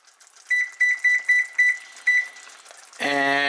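A kitchen timer is set for five minutes while eggs cook with tomato, giving a run of short, bright beeps in an uneven rhythm, then a steady loud tone near the end, close by and with no talk.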